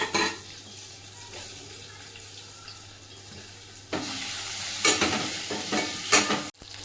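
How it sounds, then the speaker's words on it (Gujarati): Stuffed eggplant (ravaiya) cooking in hot oil inside a pressure cooker, a soft steady sizzle with intermittent louder scraping and stirring clatters against the metal pot near the end. "તો જો આપણે સરસ બધો રવૈયો અંદર વઘારી દીધો છે અને તેલમાં ચડે છે"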